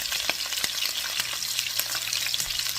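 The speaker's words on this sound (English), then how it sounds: "So just let it sizzle away." Pork frying in a pan on low heat, a steady bright sizzle with scattered small pops and crackles, close and continuous with no talk.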